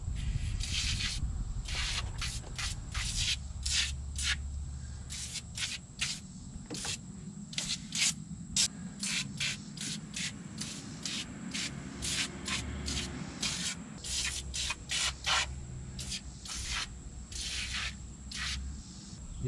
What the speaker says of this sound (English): And I'm just gonna spray everywhere that I see.